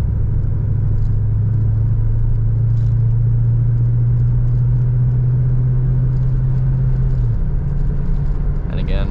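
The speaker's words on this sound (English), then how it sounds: "of course you guys can hear the car, it's extremely quiet inside." Cabin interior of a 1982 Mercury Cougar XR7 on a paved road: a steady, low engine drone and road rumble that drops in pitch near the end as the transmission shifts, under continuous talking.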